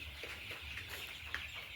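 Young chicks about 23 days old in a poultry farm shed cluck and peep softly together, a continuous chorus of close bird calls over a low steady hum.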